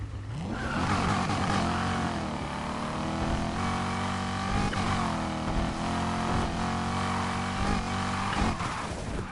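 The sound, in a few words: car engine revving in video game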